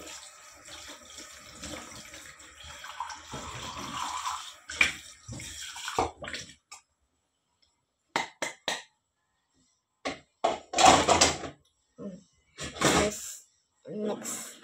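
Tap water running while dishes are rinsed, a steady broadband wash through the first half, then broken into short splashy bursts with pauses; a voice talks over parts of it.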